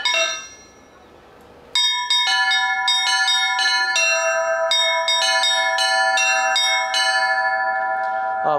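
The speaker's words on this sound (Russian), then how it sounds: "Они привязаны веревочками, и мы звоним так называемым хватом звонаря." Small church chime bells, tied with cords and rung by a bell-ringer's grip, peal in a fast repeating pattern of bright, overlapping strikes that ring on and sustain, following a brief quieter start.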